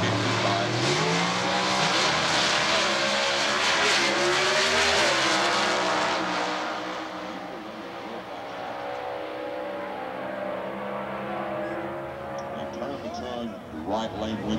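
Altered drag racing cars with multi-speed transmissions launching and racing at Atlanta in 1992, loud engine roar rising in pitch through gear changes, then fading into the distance, with a commentator talking over the engines.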